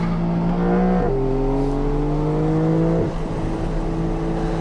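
A Porsche 992 Carrera GTS with the lightweight package is driven hard on a racetrack, its engine note climbing steadily and dropping at two quick gear shifts, loud and close with no talk.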